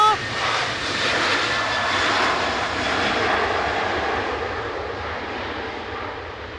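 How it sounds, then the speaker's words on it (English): Ryanair jet taking off from Manchester Airport bound for Berlin, a loud, broad engine roar that holds steady and then slowly fades as it climbs away. "So there goes Ryanair to Berlin"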